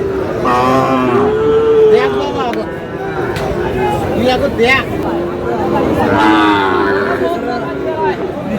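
A Sahiwal bull moos loudly and close by at a cattle market in Dinajpur, Bangladesh, a couple of drawn-out lows set against constant nearby conversation and crowd noise.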